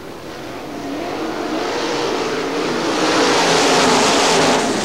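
At a speedway, 410 sprint cars race past in a loud, continuous engine roar that swells gradually over several seconds with no talk over it.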